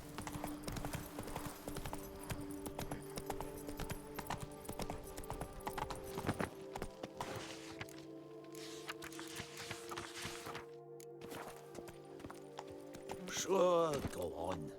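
Roach the horse galloping in The Witcher 3, rapid rhythmic hoofbeats on the ground running continuously alongside game music and ambience, with a brief faint whinny-like sound near the end.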